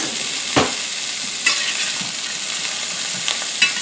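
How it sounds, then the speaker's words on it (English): Meat searing in a hot pan for a meal-in-a-jar dish of sausage, green beans and potatoes, a steady close sizzle with a few brief louder crackles and stirring clatter, no voices. "I'm going to sear them for just until I start getting a little brown"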